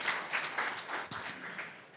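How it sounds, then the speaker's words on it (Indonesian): Congregation clapping during an online church service, fairly faint and uneven, with loose bursts of hand claps and one sharper knock partway through. "Yang setuju berikan tepuk tangan meriah buat Tuhan kita."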